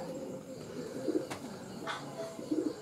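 Racing pigeons coo softly in a loft, low murmuring calls rising a few times over quiet background noise, with a couple of sharp clicks in between.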